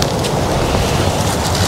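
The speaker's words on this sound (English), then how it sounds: "Very windy out today." Strong wind gusting outdoors in a suburban garden in early April, a loud, continuous rushing roar buffeting the microphone with no talking.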